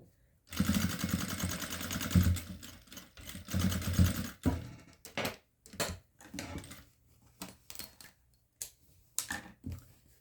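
Domestic sewing machine stitching along the top edge of a fabric border hem on a cloth, a steady motor run for a few seconds, then short bursts of stitching with pauses between.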